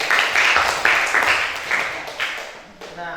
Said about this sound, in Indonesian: Ya, kasih tepuk tangan.